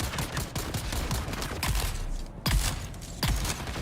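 Gunfire in the Dune Awakening video game during a deep desert fight, with bursts of close, loud shots in quick succession over continuous background noise.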